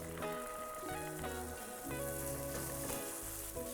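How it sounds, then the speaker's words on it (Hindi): Asafoetida, ginger, carom seeds and peas hiss and crackle in hot ghee for hara bhara kabab, a steady close sizzle with no talk, layered under sustained background music. "ये गई हींग और ये गई अदरक, ये गई थोड़ी सी अजवाइन और ये गया मटर।"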